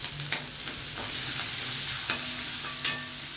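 Tempering (vaghar) sizzles for cabbage chili sambharo, a steady close frying hiss broken by light spoon clinks and stirring taps, with no voices.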